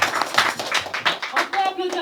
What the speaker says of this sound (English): On peut applaudir Vidura